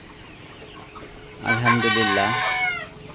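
Poultry farm chickens, a 58-day-old broiler among them, sound off in a burst of harmonic clucking and crowing-like calls lasting about a second and a half, close by, with brief speech nearby.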